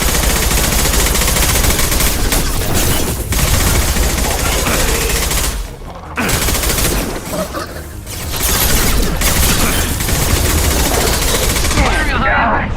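Sustained automatic gunfire from the video game Mass Effect 2, dense and loud rapid bursts over about twelve seconds with two brief lulls, no talking.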